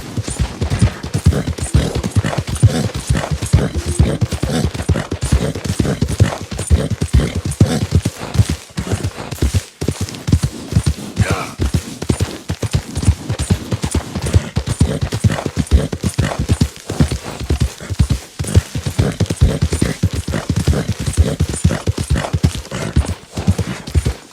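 Horse hooves clip-clop in a steady galloping rhythm in the Red Dead Redemption video game, loud and close throughout, with a brief whinny and no talking.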